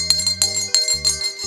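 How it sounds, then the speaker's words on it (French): A small bell on a teddy bear's neck jingles in quick, bright shakes, close and clear, a few tinkling bursts ringing with a faint tonal hum beneath. "c'est le même bruit que font les cloches du Père Noël"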